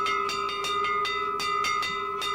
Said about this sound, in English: I hear a ship's bell!